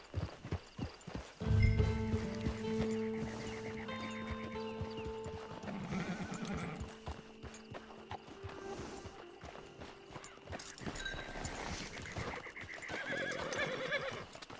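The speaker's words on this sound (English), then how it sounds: "Get your horse." Horse hooves clip-clop steadily as a horse neighs and whinnies in the Red Dead Redemption 2 Online game on PS4, the hoofbeats close and continuous with scattered game sounds around them.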